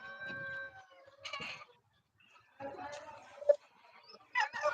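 Chickens on a large poultry farm cluck and call in short bursts, some tonal crowing-like calls, fairly close and soft, mixed with pauses; voices may be present.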